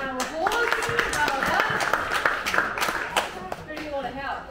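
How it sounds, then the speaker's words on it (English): The audience at a sheep and dog show at Sheepworld claps for a young volunteer, scattered, fairly close applause lasting a few seconds, with voices and children's chatter mixed in. "Give them a round of applause."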